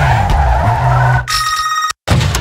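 Tires of a Mazda RX-8 squeal loudly as it drifts in the racing game Need for Speed Underground 2, a sustained skid with engine roar that abruptly shifts to a tonal screech, then cuts out briefly before resuming.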